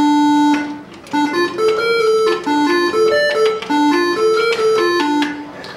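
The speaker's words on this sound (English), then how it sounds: "we're using the clock rate of that shift register to make our pitches." A Commodore PET uses its shift register clock as a 1-bit synth, producing bright, buzzy square-wave tones in a quick stepping melody of short notes and jumps in pitch, heard on its own at moderate level.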